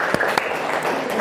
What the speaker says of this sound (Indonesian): boleh beri tepuk tangan yang meriah untuk kelompok